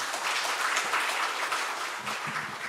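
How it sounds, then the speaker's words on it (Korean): A church congregation applauds during a Sunday worship service, a dense, sustained wash of clapping from many hands that fills the room throughout. "큰 박수에 하나님께 영광 돌리십시다."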